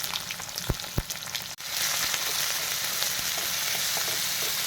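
Onion sautéing in a hot pan for a bottle gourd vegetable dish: a couple of sharp utensil taps, then a loud, steady, dense sizzle that carries on without pause to the end.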